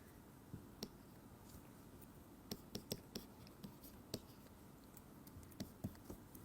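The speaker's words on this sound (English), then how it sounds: "I'm just going to write the kinetic term" Marker or chalk strokes on a board during a physics lecture, a scattering of short, faint taps and scratches spaced irregularly, with no talking over them.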